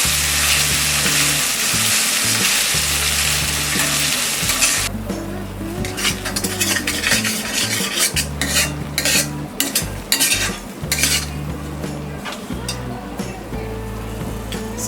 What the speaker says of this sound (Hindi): इसे हम लो फ्लेम में फ्राई करेंगे।